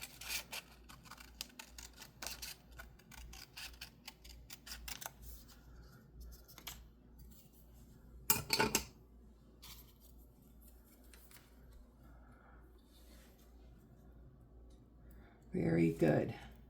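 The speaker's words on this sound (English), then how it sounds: "Let's get some scissors." Repeated crisp snips of scissors cutting paper, close and irregular, with a couple of louder rustling bursts and a voice speaking briefly.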